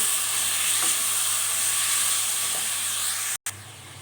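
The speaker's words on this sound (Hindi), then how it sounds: "अब हम इसमें चिकन ऐड कर देंगे और अच्छी तरह से इसको 2 मिनट फ्राई करेंगे।" Chicken frying in ghee with spices in a pan, a steady close sizzle running throughout with a brief cut near the end.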